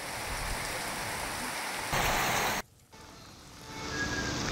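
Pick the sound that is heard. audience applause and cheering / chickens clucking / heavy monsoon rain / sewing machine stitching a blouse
heavy monsoon rain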